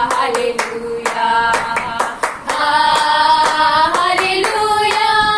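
A congregation claps hands in a steady, brisk rhythm during a Friday prayer service, the loud claps carrying over sustained singing and music.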